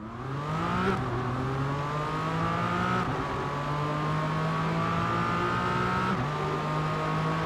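GT4 race cars, including a Porsche, roar off the line together at a race start, engines revving hard with rising pitch and abrupt gear-change drops about every three seconds, loud and sustained throughout with no talk.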